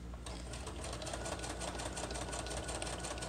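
A sewing machine runs continuously at a steady, fast pace, stitching down the edges of a paper patchwork wallet, its rhythmic needle clatter loud and close with no pauses.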